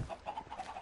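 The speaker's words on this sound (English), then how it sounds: "There's a chicken!" A chicken in Minecraft clucks in a quick series of short, evenly spaced notes, close and clear with no talking.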